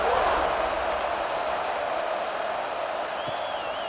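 A college football stadium crowd at kickoff in a Virginia Tech versus NC State game roars as a broad, sustained wash of cheering and applause, slightly louder at first and then holding steady.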